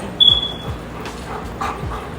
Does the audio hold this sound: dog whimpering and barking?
yes